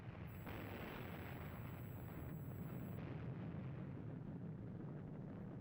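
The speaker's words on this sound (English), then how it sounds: "Another explosion of a nuke." A nuclear explosion in a video game, heard as a steady, dense low rumble with a roaring burst that holds at a fairly low level across the clip, with no talk.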